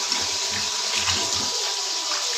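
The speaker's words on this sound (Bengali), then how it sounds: "এখন আরো ভালো মতো ধুয়ে নিই," Running water splashes steadily as leafy data greens are rinsed in a kitchen, a close, continuous gush with no talk.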